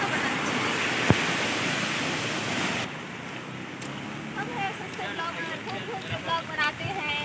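Fast-flowing flood water rushes with a broad, steady roar, loud at first and then lower and more distant, while someone talks over it.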